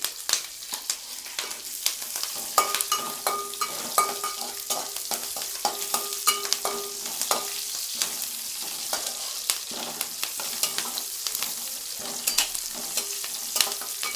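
Green chili pieces and cumin seeds fry in hot oil for jeera rice, giving a steady close sizzle with light clinks of a stirring spoon against the pan and no voices.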